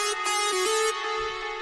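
Hardstyle synth lead, built in FL Studio from a saw and a square wave with slight detune. One bright, buzzy, sustained note with a small pitch glide plays alone at moderate level.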